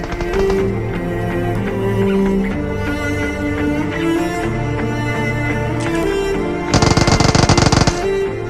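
Gunfire rings out in a battle royale shooter video game as the player nears an apartment building, with scattered shots over game music and a loud rapid automatic burst near the end.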